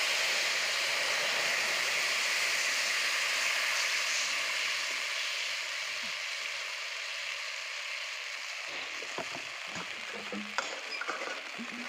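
Tamarind water poured into a hot pan of spluttering mustard seeds, a steady hissing sizzle that fades somewhat, followed by faint clinks and crackles.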